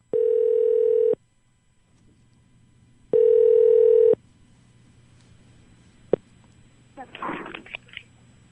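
A telephone dial tone sounds in two clear one-second beeps separated by silence, followed by a brief click and a faint rustle, placing a phone-a-friend call on a Korean quiz show.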